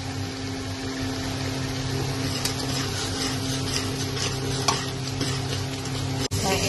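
Spice paste with bay leaf and garam masala fries in oil for a mutton curry, giving a continuous close sizzle with occasional stirring scrapes and light clinks of the pan.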